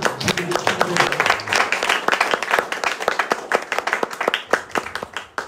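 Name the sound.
audience clapping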